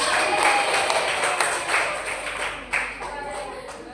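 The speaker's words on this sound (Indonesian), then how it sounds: "Beri tepuk tangan dulu untuk yang" A classroom group claps together in a brisk, moderately loud burst that thins out and fades over a few seconds, with some voices faintly mixed in.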